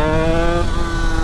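DTR 125 motorcycle engine revving hard at high rpm, a loud, sustained buzzing two-stroke tone held steady close by with no talk.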